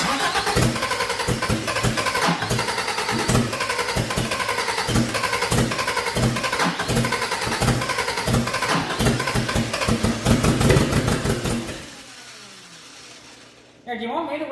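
A 1978 Honda Civic engine that had sat for 26 years cranks and sputters into rough, loud running close by, revving unevenly, then drops off sharply near the end; voices talk at times.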